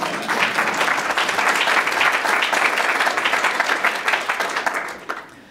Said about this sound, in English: Another reason to clap.